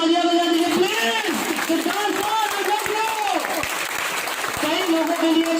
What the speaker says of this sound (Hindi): एक बार जोरदार तालियां बजा दीजिए प्लीज